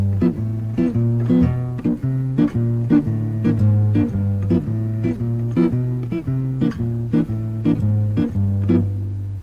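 Strummed guitar chords hit in a steady off-beat rhythm, short choppy stabs repeating evenly with a sustained bass underneath.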